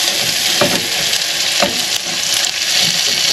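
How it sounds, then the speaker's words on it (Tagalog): Garlic, onions and ginger frying for Filipino adobo, a dense close sizzle with a few soft stirring scrapes, no voices. "Garlic and onions Ginger. frying up on some ginger."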